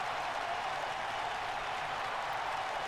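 A crowd in the wrestling video game WWE 2K22 roars and applauds in a dense, even wash of noise that carries unbroken for the whole stretch, with no distinct voices standing out.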